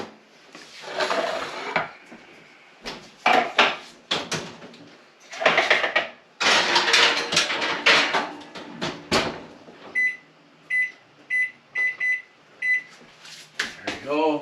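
An oven door and metal trays clatter as cherry pie cookie cups go into a home oven, with bursts of knocks, slides and thumps, then a run of short electronic beeps, while a person talks in between.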